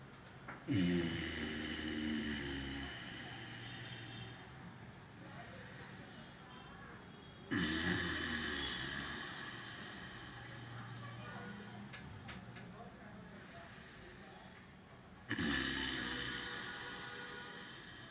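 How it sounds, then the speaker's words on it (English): Ujjayi pranayama breathing: slow, hissing breaths drawn through a constricted throat, three long rasping cycles with a soft snore-like rumble, close and steady with gaps between. "So we have to make sound in the throat like snoring."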